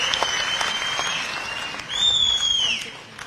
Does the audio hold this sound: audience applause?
yes